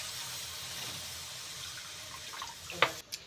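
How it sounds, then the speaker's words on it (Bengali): Water poured into a pan of fried spice masala to start an okra gravy, a steady rushing pour lasting a few seconds before it stops, with a couple of brief clatters at the end. "এইবার গ্রেভি করবার জন্য অল্প পরিমাণে জল দিয়ে দেব।"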